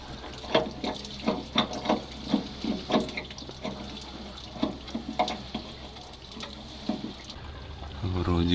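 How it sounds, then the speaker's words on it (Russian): Water runs and drips from the drain cocks of a ZIL truck being started after twenty years standing idle, a trickling, splashing flow with irregular spattering drops close by, and a low engine-like rumble rising at the end. "С краников сливных поплыло."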